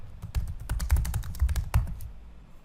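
Rapid, close keystrokes on a computer keyboard as an agent types a note, a dense irregular patter of clicks with a few heavier taps.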